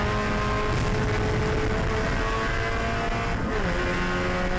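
Spec Miata race cars on the final lap of a club road race at the June Sprints, a loud continuous engine drone holding steady with a slight pitch dip partway through, no voices.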